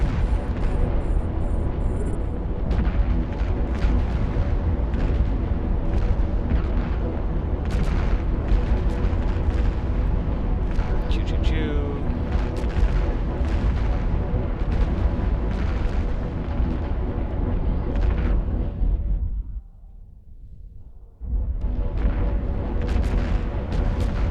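Dense, continuous rumbling blasts and booms from missile explosions in EVE Online, layered and loud, briefly dropping away near the end before resuming.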